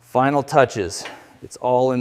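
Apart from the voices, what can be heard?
No distinct noise like a dog, phone or traffic.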